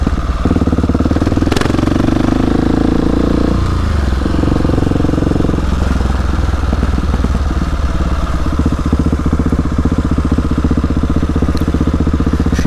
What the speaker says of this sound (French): Le bruit qu'elle fait là, cette moto